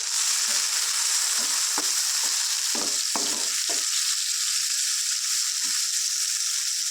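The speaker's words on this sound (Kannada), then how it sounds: "ಟೊಮೆಟೊನ ಹಾಕ್ಕೊಂಡು ಚೆನ್ನಾಗಿ ಮಿಕ್ಸ್ ಮಾಡ್ಕೊಳ್ಳೋಣ" Tomatoes are stirred into fried onions in a pan for mutton sukka. A constant close frying hiss runs throughout, with a cluster of scraping, clattering spoon strokes in the middle.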